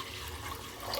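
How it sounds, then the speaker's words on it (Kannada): Water splashes and rushes steadily over lentils, a continuous close pouring sound with no speech. "ಸ್ವಲ್ಪ ನೀರು ಹಾಕಿ"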